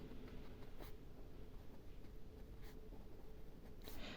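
A pen writes out an algebra expression on paper, producing faint, soft scratching strokes in short bursts against a quiet background.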